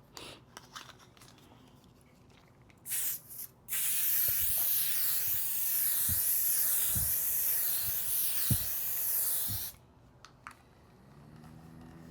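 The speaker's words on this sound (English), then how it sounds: "I'm gonna do one spray here in front of you guys" A makeup setting spray fires in one long, close hissing burst of about six seconds, preceded by a couple of short clicks and puffs, with quiet room tone after.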